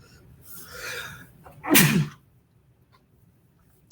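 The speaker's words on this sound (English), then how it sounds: "I gotta sneeze." A sharp sneeze bursts out after a short breathy intake, loud and close against a quiet room.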